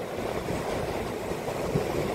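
Sea waves wash and break on a shore in a continuous broadband roar with wind, close and steady, with no voices.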